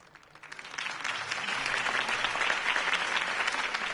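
A crowd bursts into applause after Harvey Dent's campaign speech in a Batman video game, starting thin and quickly swelling into loud, steady clapping from many people that stays strong to the end.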